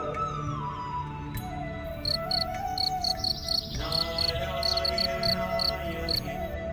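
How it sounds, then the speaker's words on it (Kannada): Crickets and other insects chirp in a steady high-pitched chorus, joined midway by sharper, repeated pulsed chirps at a regular rhythm over low background music. "ಕ್ರಿಮಿಕೀಟಗಳ ಶಬ್ದ"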